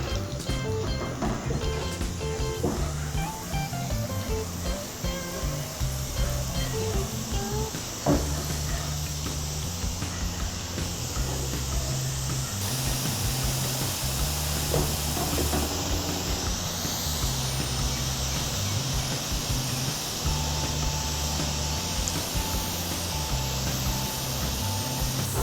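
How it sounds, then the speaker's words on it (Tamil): Boondi batter for laddu frying in hot oil, a steady, close sizzling hiss that continues throughout, with a low tonal background running underneath. "எண்ணெய் ஊற்றி நம்ம அதை பொரிச்சு எடுக்கணும்."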